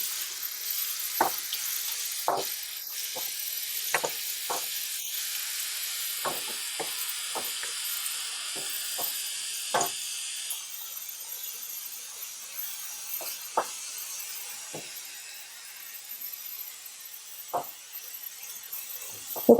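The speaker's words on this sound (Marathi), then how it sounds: "गॅसची फ्लेम हाय आहे हाय वरती व्यवस्थित कांदा भाजून घ्यायचा आहे" Onion frying on a high gas flame for dried bombil, a faint steady sizzle broken by many sharp ladle clicks and taps against the pan, with no talking.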